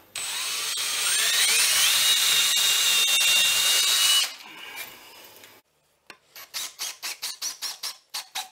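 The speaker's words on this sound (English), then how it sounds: "The reason why I'm drilling before I put in the screws is because I don't want the wood to crack" A power drill whines steadily into wood, pre-drilling screw holes for a shelf, for a few seconds, then stops, followed by a quick series of rhythmic scraping strokes.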